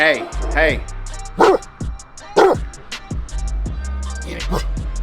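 A dog barks repeatedly and loudly at close range in sharp, spaced yelps, with a low steady hum underneath.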